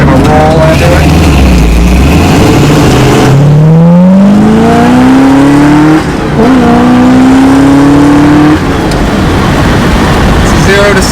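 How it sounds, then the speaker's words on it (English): A 1968 Mustang with a 428 Cobra Jet V8 pulls away from a stop, engine note climbing in a loud, rising sweep through the gears with a brief dip between shifts, close and continuous. "I'll get on the gas a little bit and show you guys what it's like from a stop"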